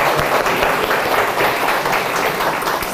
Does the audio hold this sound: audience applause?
yes